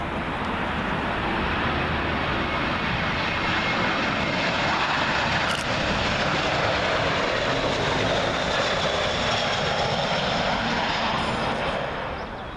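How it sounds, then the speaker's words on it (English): A British Airways Airbus A320 arriving from Paris Charles de Gaulle passes loud and near overhead on final approach to Heathrow's runway 27L, its continuous jet roar swelling slightly and then tailing off. "Up next, standard British Airways A320. This one from Paris, Charles de Gaulle."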